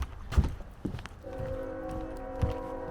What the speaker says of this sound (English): Oh, there we go. I hear the train.